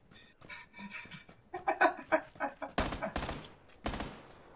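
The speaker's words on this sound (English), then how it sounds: "I'm in the middle of a gunfight with it" A video game gunfight rattles with a quick flurry of sharp shots, starting light and sparse, then building into louder, denser bursts toward the end, with no talk over them.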